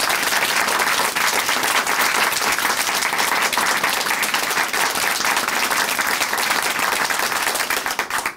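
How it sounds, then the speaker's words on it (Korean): A church gathering's audience gives a big round of applause for a guest sharing her faith testimony, steady dense clapping that holds at full strength throughout before tapering at the very end. "우리 다시 한번 큰 박수 보내드릴게요"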